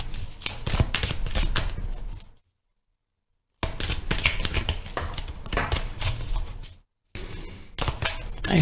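A Thelema tarot deck, somewhat worn, is shuffled and handled in short bursts of riffling and tapping, separated by two brief silent gaps, close and moderately quiet with no voices.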